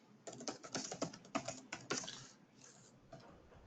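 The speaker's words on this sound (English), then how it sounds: "So right now, again, I'm just typing notes." Quick run of fingers typing on a computer keyboard, fairly quiet and close, a brisk patter of keystrokes for about two seconds that then thins to a few scattered taps, with no talking.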